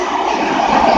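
Class 90 and Class 66 locomotives hauling a train at South Kenton, a loud, steady rumble of a train passing close by throughout the second.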